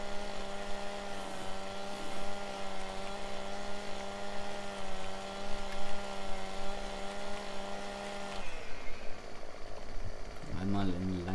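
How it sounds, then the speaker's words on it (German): Chainsaw cutting branches in the farming game Farming Simulator 17, a steady buzzing drone at constant pitch that cuts off near the end, heard under someone talking. "Säge an und Asten."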